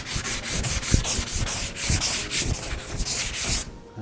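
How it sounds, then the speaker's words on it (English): An aluminium jon boat, a 1448 Lowe, is hand-sanded before painting, with steady rhythmic back-and-forth rasping strokes, close and alone, stopping just before the end. "I will just give it a quick sand to take off any of those scoring marks"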